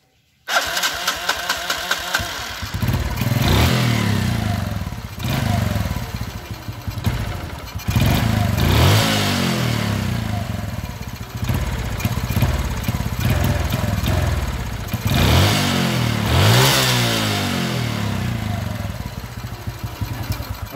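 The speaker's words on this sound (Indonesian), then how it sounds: "penyakitnya seperti ini, apalagi buat jalan motor malah mati sendiri bila gaspol" A motorcycle fitted with a Supra 125 carburetor runs close by with a rough engine, swelling through several throttle blips and revs over a steady running drone.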